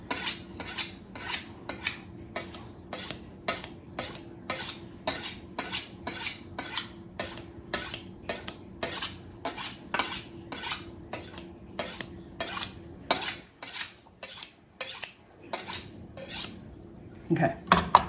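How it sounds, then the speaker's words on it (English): A kitchen knife is swished along a sharpener in alternating strokes on each side, in a crisp, close, evenly paced series of about thirty scrapes. The rhythm pauses briefly near the end, then resumes. "an equal number of swishes of the knife on each side"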